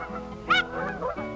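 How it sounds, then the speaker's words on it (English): Wild geese honk close by, with one loud, sharp nasal call and a couple of softer, lower honks following in quick succession. "Hunting Niska, the goose, was a necessary way of life"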